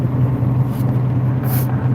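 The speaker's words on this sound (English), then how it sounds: "Kind of pushing some loaded trucks up the hill" Loaded trucks in a convoy climb a hill, giving a steady, continuous low engine rumble close by with no breaks and no talk.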